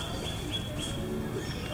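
Large birds call near a bush dog enclosure at San Antonio Zoo, giving a few faint chirps and coos over steady outdoor background noise, with no clear talk.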